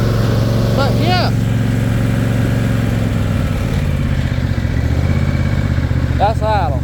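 Cub Cadet ZT1 zero-turn mower engine idling, a loud steady low rumble that runs unbroken throughout, with someone talking over it at a couple of points.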